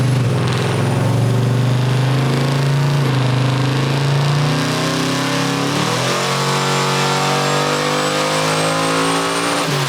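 An 1800 hp twin-supercharged Monte Carlo roars on a hub dyno, held at high revs against the rev limiter with a loud sustained engine note and supercharger whine, running alone without talk.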